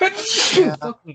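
A single sharp sneeze bursts out close to the mic, with people speaking briefly just after it.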